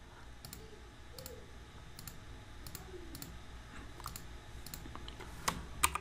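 Light computer clicks sound at the desk while deleting requests in JMeter, a few sharp, quiet taps spaced roughly every half second over faint room hiss, with no talking.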